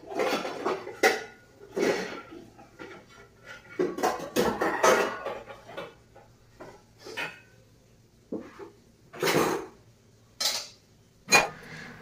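Dishes, pots and pans are scrubbed and handled at a home sink, giving irregular clinks, clatters and scraping bursts separated by short quiet gaps, close by and without talk.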